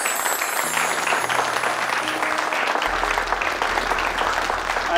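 A crowd of people claps steadily through the whole stretch, dense and fairly loud, with music playing underneath.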